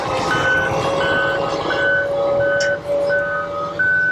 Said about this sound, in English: I got a cat dump truck.